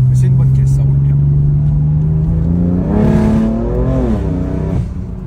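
BMW car engine revving with its stock exhaust pops, a loud steady drone that climbs in pitch then wavers and drops off near the end, with a person talking over it.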